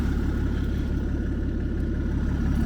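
A family car's engine idles steadily up close, a continuous low rumble with an even pulsing throb and no voices over it.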